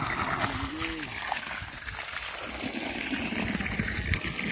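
Irrigation water gushes and splashes steadily into a cabbage field, a continuous rushing flow close to the microphone, with a voice speaking faintly under it early on.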